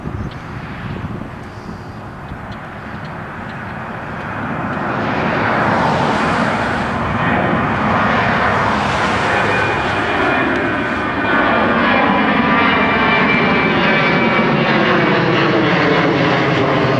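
An airplane flies overhead near a river boat ramp, its engine drone swelling from a distant hum to a loud, sustained roar with a slowly shifting pitch as it passes close.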